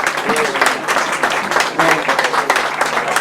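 A crowd at the 2007 Jim Coles Spectacular grasstrack prize-giving applauds a rider, a short burst of clapping mixed with an announcer's voice over a public address.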